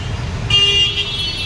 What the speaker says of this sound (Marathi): ट्रॅफिक बघा किती आहे.